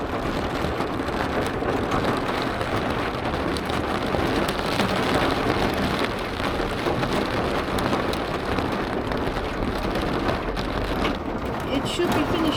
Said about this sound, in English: Now we're getting the big hail. It's getting a lot worse. The hail is getting bigger.